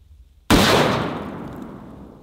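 A single loud, close revolver shot from a .500 S&W Magnum firing Underwood Extreme Penetrator ammunition outdoors, a sharp crack followed by a long decaying boom with no talking.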